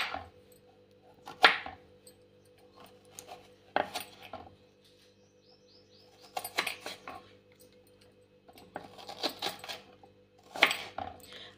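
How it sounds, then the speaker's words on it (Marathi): A knife chops onions into quarters on a cutting board, a few sharp, close cuts in scattered bursts separated by quiet pauses, with a low steady hum beneath. "हे कांदे देखील आपण 4 भागामध्ये कट करणार आहोत।"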